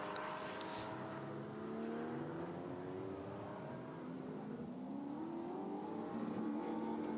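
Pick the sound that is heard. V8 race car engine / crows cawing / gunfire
V8 race car engine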